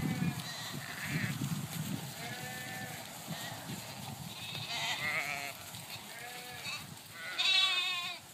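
A flock of sheep answers a shepherd's call with repeated wavering bleats, some near and some farther off. The bleats overlap through a steady outdoor background.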